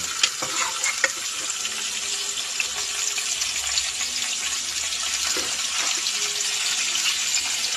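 Meat goes into a pan of garlic and bitter gourd being sautéed, and a steady bright sizzle runs throughout, marked by a few faint clicks of a utensil, with no talking.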